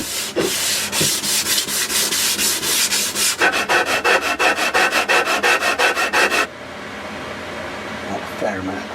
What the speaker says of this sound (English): More back there, and a bit more sanding